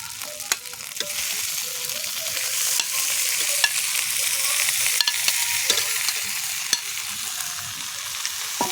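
Ridge gourd being stir-fried with potato and poppy seed paste in a pan, a steady close sizzle broken by regular scrapes and clicks of a spatula, no talking.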